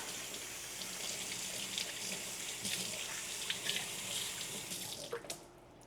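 Tap water runs steadily into a kitchen sink while carrots are rinsed under the stream, a close, continuous splashing hiss that shifts slightly as the carrots are turned and then eases off at the end.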